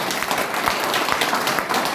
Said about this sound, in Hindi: एक बार जोरदार ताली हो जाए सर